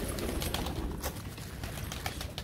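Pigeons being fed grain coo softly in a brief, faint stretch, low murmuring calls over a light background bustle.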